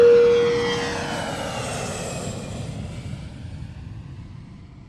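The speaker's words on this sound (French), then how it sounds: "Prêt pour le décollage." An airplane taking off roars loudly at first, then its engine noise slowly fades as it climbs away into the distance, with no voices.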